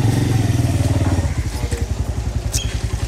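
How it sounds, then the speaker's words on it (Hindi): A motorcycle at a bike rally in Pakistan is started, sputtering up into a loud, close, rapidly pulsing engine idle with some clattering. "बाइक स्टार्ट करने लगे हैं, कर रहे हैं, बल्कि ओए हो गई"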